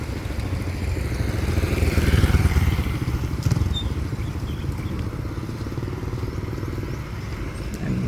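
Motorbikes ride past on a street near a beach in Thailand, a buzzing small-engine drone that swells as one passes close around the middle and then settles into a steady background hum.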